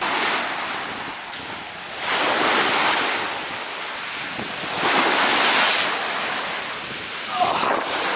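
Sea waves wash onto a beach in Kalamata, Greece, a loud, continuous roar of surf swelling and easing in slow surges, mixed with strong wind buffeting the microphone.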